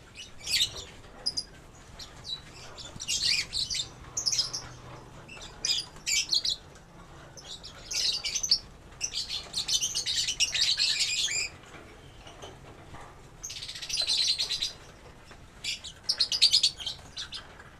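Lovebirds in breeding cages chirp in shrill, rapid clusters of varying loudness over a faint background, with a few gaps of quiet and no speech.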